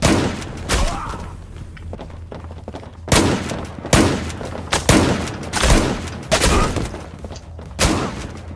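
Gunfire in the online shooter game Zula comes in repeated loud volleys and bursts separated by short gaps, with game effects between the shots.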